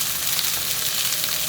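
Dry-brined chicken breast frying in a covered pan, a loud, steady sizzle with a bright hissing crackle and no pauses.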